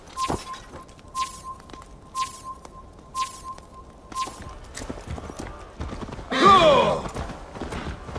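Horse hooves clip-clopping in Assassin's Creed Valhalla, a slow, evenly spaced series of distinct hoof strikes with a steady tone behind them, then a brief burst of scraping noise.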